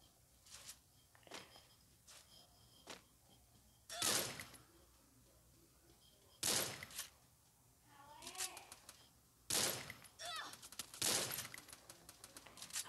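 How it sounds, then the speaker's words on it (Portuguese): Gunfire in a battle-royale style shooter game with an M14 rifle, heard as several sharp loud bursts of shots spaced irregularly, with quieter rattling and shuffling between them. "Olha lá, tem um cara ali me atirando."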